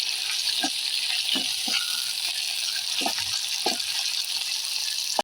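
Onion and tomato sizzle steadily in hot oil tempering, a continuous close frying hiss with a few soft stirring clicks scattered throughout, no talk.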